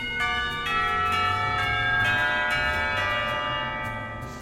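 A school bell rings out in the visual novel Katawa Shoujo, a sustained, resonant chime with repeated struck tones ringing steadily and loudly, no voices over it.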